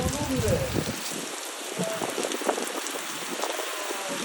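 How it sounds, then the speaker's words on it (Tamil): Heavy rain pours steadily and close by in Jeddah, Saudi Arabia, a dense hiss of drops drumming on surfaces, with a brief voice at the very start. "சரியான மழை ரொம்ப மழை"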